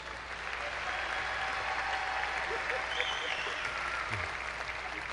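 Sustained applause for graduates at a university fall commencement ceremony, a steady, dense wash of clapping from a large audience that holds at an even level throughout.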